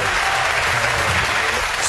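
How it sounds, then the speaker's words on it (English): Audience applause from a studio crowd at a televised talk show, a steady dense wash of clapping over the whole stretch with some voices mixed in. "Give him a round of applause, though, gentlemen."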